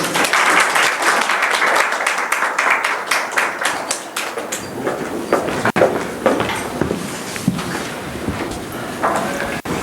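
An audience at a Korean university admissions briefing applauds to welcome a speaker, brisk clapping for about four seconds that then fades into room noise, shuffling and scattered knocks.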